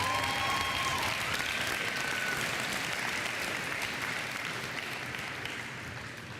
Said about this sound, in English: Can we give one more round of applause for all of our middle school athletes?